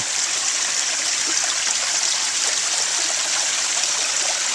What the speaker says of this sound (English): there's actually a little bit of a waterfall here